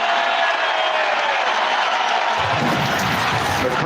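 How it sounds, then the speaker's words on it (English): NBA Finals basketball crowd in an arena cheering a foul call, a dense roar of many voices that swells louder and fuller near the end, close and continuous. "The crowd cheering the foul call on Caruso."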